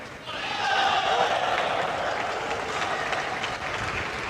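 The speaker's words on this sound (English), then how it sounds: "You could hear the roar, the cheer from the side of China as well" A crowd roars and cheers at an Asian Team Championships table tennis match between Lin Shidong and Benyamin Faraji, a broad swell of noise that builds quickly, peaks loud near the start and then holds as a sustained cheering wash.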